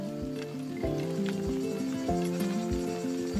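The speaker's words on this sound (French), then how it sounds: "Christine élève ses chèvres comme il y a 100 ans." A herd of goats in the Sainte-Baume massif in the Var, raised in the traditional way, bleats in overlapping, sustained calls that rise and fall steadily, close and fairly loud, with no talking.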